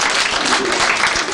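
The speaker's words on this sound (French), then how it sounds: "Merci d'applaudir l'artiste." An audience applauds a magician's act at a French-language magic show, a steady, dense wash of clapping filling the whole moment with no pauses.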